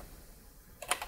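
Keys tapped on a computer keyboard, a quick cluster of several sharp, close clicks arriving after a quiet moment.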